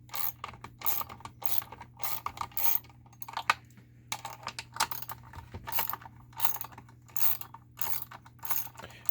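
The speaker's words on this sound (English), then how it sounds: "3/8 ratchet." A 3/8 ratchet on a 1/4-inch drive backs bolts out of a Cannon downrigger motor box, giving repeated close bursts of rapid clicking in a steady rhythm with short pauses between strokes.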